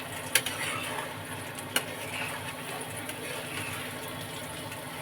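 Spiced pulao rice being stirred in a pot gives soft, faint scraping and shuffling over a low background hiss, with two sharp clinks near the start.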